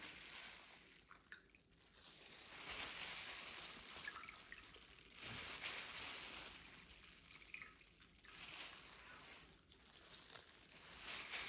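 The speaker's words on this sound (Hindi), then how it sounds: "इनका बहुत अच्छे तरीके से पानी निकालना है।" Soaked bread slices for chicken cutlets are pressed by hand, releasing water in bursts of dripping and trickling with faint squishing, close and quiet, in swelling waves without talk.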